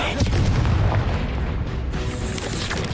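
Booming fire-spell blasts from Confringo in the game Hogwarts Legacy, a dense, continuous barrage of explosive bursts and rumbling impacts layered with other spell effects, loud and unbroken across the stretch.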